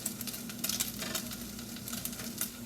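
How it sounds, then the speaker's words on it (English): Bacon sizzles in a pan while breakfast is cooked at home, a steady crackling hiss with scattered louder pops and no one talking. "time to put my bacon again"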